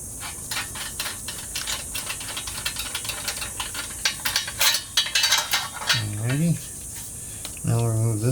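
A hand ratchet clicks steadily while a nut is threaded back onto the stock downpipe of a BMW G8X resting on jack stands, with a voice murmuring near the end.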